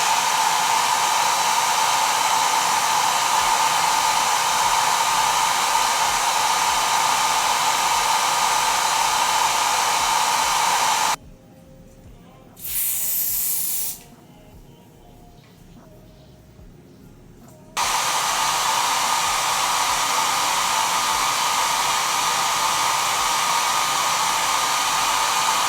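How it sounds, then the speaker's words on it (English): A blow dryer dries a lace frontal wig with a loud, steady whoosh, cutting out for several seconds partway through before roaring back on. "Same thing, blow dryer"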